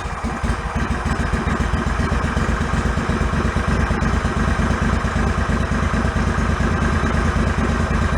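A John Deere lawn tractor engine with a flooding problem runs loud and close with a steady, rapid, thumping putter and a light clatter, holding an even idle throughout.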